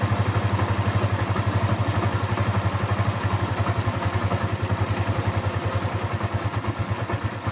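A motorcycle engine idles steadily and close by with an even, throbbing pulse and light mechanical clatter while its idle screw is being adjusted; no one speaks.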